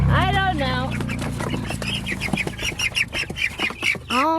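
A young chicken, a pullet or rooster chick, squawks loudly in short, shrill bursts up close, alongside a person's quiet talking.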